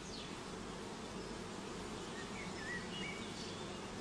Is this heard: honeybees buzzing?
yes